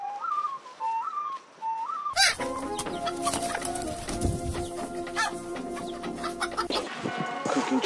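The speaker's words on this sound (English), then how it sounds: "This chicken is giving me some good looks." Chickens cluck and squawk at close range amid busy barnyard noise, preceded by a short warbling whistle-like call, with bursts of fowl vocalizations filling most of the stretch.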